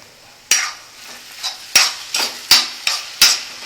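A ladle scrapes and knocks against a frying pan as curry is stirred, giving about six sharp metallic strokes at an uneven rhythm, close and fairly loud, with a faint sizzle underneath.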